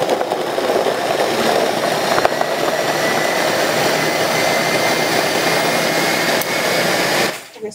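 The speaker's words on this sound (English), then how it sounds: "So I'm letting it blend until it gets really smooth and it will be ready to drink." A blender whirring steadily at full speed as it purees a carrot smoothie, a loud continuous motor roar with churning that holds for several seconds before abruptly spinning down.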